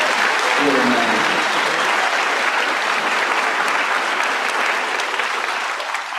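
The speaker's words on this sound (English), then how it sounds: "would you please give a round of applause for our managers" Loud, sustained applause from a large graduation audience for the managers, steady dense clapping filling the whole stretch without a break.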